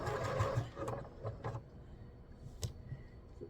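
A sewing machine stitching bargello quilt blocks with a quarter-inch seam, running in short uneven bursts that start and stop, close by with faint handling noise.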